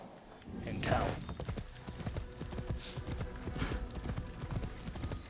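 Horse hooves trotting through a town in Assassin's Creed Shadows, a fast, even clip-clop rhythm that continues steadily at moderate volume beneath someone talking.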